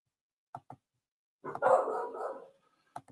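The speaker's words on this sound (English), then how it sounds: "The dog's barking." A dog barks indoors at moderate distance: two short yips, then a longer rough bark and another quick yap, with silence between.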